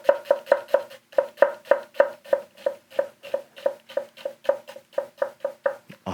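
A Makoto Kurosaki santoku knife chops through an onion in a steady run of about twenty-five crisp, evenly spaced cuts, each ending in a clear knock on the board, close and loud with no voices.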